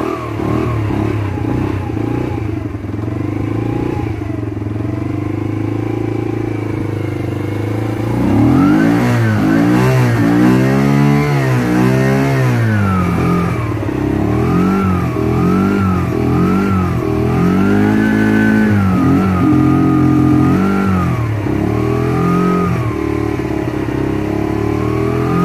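A Yamasaki YM50-RE 2018 motorbike engine idles steadily, then revs repeatedly in rising and falling bursts, loud and close, with no talk over it.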